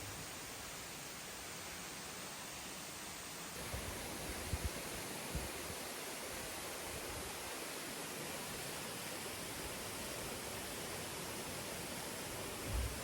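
Kipilas waterfall in Bukidnon flows with a steady, broad rushing wash heard from some distance, unbroken throughout, with a few faint knocks and footsteps near the middle.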